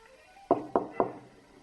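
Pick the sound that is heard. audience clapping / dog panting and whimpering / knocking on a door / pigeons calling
knocking on a door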